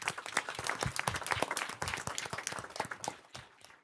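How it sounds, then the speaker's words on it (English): Applause at a housing authority board meeting for a retiring CFO: a few seconds of brisk clapping from a modest group in a room, fading out at the end. "So let's give him a round of applause."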